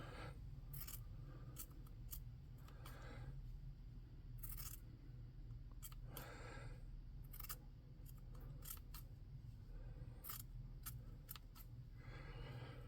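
Scissors snipping paper into ragged, jagged strips for a tabletop wraith craft, quiet crisp cuts coming in irregular bursts with short pauses, close and with no talk.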